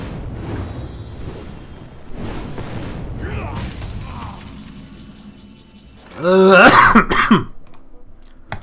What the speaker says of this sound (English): with my coughing right now